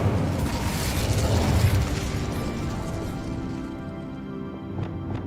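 Incendio fire spell cast in Hogwarts Legacy, a sustained roaring blast that peaks early and then fades into a lingering rumble, loud and up close with no talk.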